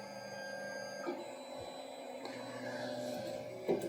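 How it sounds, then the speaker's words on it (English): An Ortur 4 V2 3D printer auto-homes its nozzle, giving a steady motor whine with tonal stepper hum that shifts pitch as the axes move, ending in a brief knock near the end, with no talking. "Now this actually ends up homing the nozzle completely off the corner of the bed"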